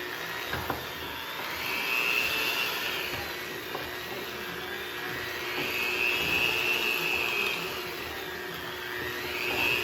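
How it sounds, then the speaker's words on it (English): Electric hand mixer whirring steadily in a mixing bowl of powdered sugar, a continuous close motorized drone that swells and eases as it works. "Basically, I'm using my hand mixer."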